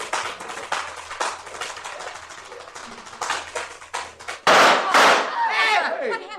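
A gunshot sound effect in an old-time radio mystery drama bursts out loud and sharp partway through, cutting off a busy run of rapid tapping from a tap dancer, followed by a dense, ringing clatter of reaction noise.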